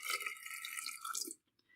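Hot water pours steadily into a solar dye jar holding avocado skins, a close, bright splashing stream that stops abruptly, followed by a few faint drips.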